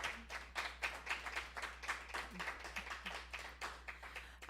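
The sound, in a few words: applause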